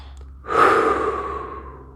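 One long breath, a slow drawn-in inhale followed by a lengthy, gradually fading exhale, close to the microphone with no talking.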